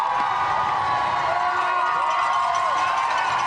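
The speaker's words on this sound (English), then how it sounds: "The crowd's already in full force, several rows deep in some cases" Large roadside crowd at Wellesley cheering Boston Marathon runners, a steady continuous roar of shouts and whoops, several rows deep, with no single voice standing out.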